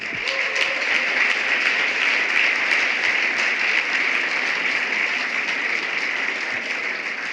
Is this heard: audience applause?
yes